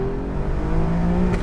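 An Alfa Romeo Giulia Quadrifoglio with a roughly 500-horsepower engine revving loudly and close, a steady, powerful drone that climbs slightly in pitch over a brief moment.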